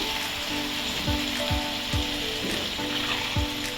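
Ground cumin, chili powder, turmeric, sugar, asafoetida and salt fry in a pan for a mushroom curry, giving a steady close sizzle broken by regular scraping stirs about twice a second.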